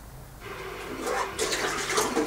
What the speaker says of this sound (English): whilst I wash this pipette out for you